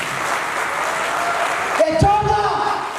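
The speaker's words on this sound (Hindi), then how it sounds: "मैं चाहता हूं एक जोरदार ताली हो जाए सरकार" Audience applause at a motivational talk for direct sellers, a steady wash of clapping with a voice cutting in over it partway through.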